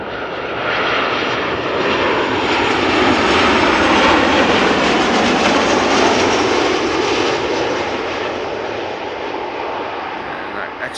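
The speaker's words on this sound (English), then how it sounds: "We have a KLM 737-800 arriving from Geneva over here." A KLM Boeing 737-800 arriving at Amsterdam Schiphol roars loudly with a steady jet engine rush that swells toward the middle and slowly fades, with a voice faintly underneath.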